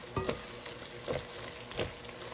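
Chopped onions sizzle in a hot pan for a cauliflower bhurji, a steady close frying hiss broken by three soft stirring scrapes, with no voices.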